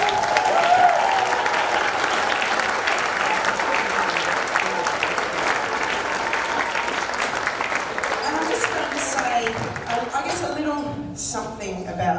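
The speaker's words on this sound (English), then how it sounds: "give them a big cheer." A school audience applauds and cheers for graduating Year 12 students at a live vocal jazz event, with loud, sustained clapping that fills the room and then tapers off near the end as a voice begins speaking.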